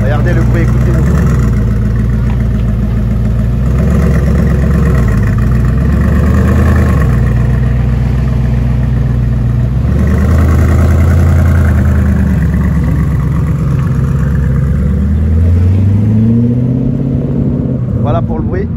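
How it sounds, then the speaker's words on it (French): An Audi R8 engine on a cold start, idling loud and close with a deep steady drone, then rising and falling in several revs toward the end. "Audi R8 en cold start. Je crois que celle-là elle a un bruit un peu particulier."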